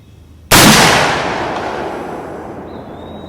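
A Krag .30-40 rifle fires a single loud, sharp shot of vintage 1930s Winchester Silver Tip factory ammunition outdoors, with the report decaying into a long rolling echo.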